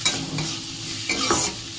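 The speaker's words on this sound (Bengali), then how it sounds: "এখন কালো জিরা রসুন কাঁচা লঙ্কা দিয়ে ভেন্ডি ভাজা হচ্ছে" Okra fries in a pan with black cumin, garlic and green chillies, sizzling closely while a utensil scrapes through it a couple of times.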